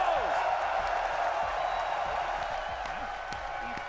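An arena crowd cheers and applauds for the MongolZ at the Austin Major 2025 Counter-Strike semifinals, a broad roar that slowly fades over a few seconds.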